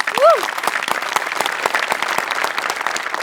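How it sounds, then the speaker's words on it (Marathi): An audience at a comedy stage show breaks into sustained applause, dense, even clapping that carries on steadily, with a brief whoop or cheer near the start. "सो हेअर मेकअप आणि कॉस्ट्युम डिपार्टमेंटसाठी पण एकदा टाळ्या"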